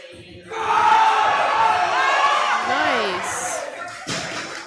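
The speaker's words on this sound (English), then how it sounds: "Crowd gets hype behind him" A powerlifting meet crowd swells into loud cheering and shouting for a 567-pound (257.5 kg) third deadlift, sustained roaring with a sharp slam-like impact near the end, voices mixed throughout.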